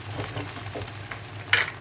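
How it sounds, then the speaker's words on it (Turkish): Potatoes fry in a pan with a soft, steady sizzle while a utensil stirs them, a few light scrapes and one sharper clink near the end, quiet and close. "Şimdi bunu da kızartıyorum. Şöyle karıştıralım."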